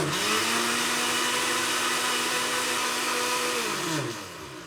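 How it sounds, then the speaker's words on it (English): A blender filled with water runs on its highest setting, powered by a Bluetti EB70 battery, a steady, loud motor whine with a droning tone, then winds down near the end as it switches off. "I'm going to test the blender on the wall first with some water in there"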